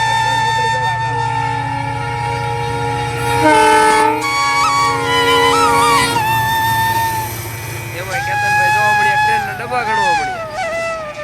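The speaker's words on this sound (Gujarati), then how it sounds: "ટ્રેન આવી તો ટ્રેન આવી રહી છે" A train arriving at a station early in the morning in Gujarat, sounding long sustained horn-like tones over a steady low rumble, with people chattering nearby throughout.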